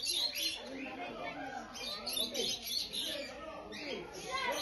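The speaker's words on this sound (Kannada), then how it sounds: "ಹಾಗೆ ಸ್ವಲ್ಪ ಹೊತ್ತು ಲವ್ ಬರ್ಡ್ಸ್ ಜೊತೆ ಟೈಮ್ ಸ್ಪೆಂಡ್ ಮಾಡಿ ಅವುಗಳ ಸೌಂಡ್ ಕೇಳಿಸ್ಕೊಂಡು" Lovebirds at Jeeva Park in Bangalore give quick, high chirps and twitters scattered across the stretch. The calls are fairly faint and come with soft background voices.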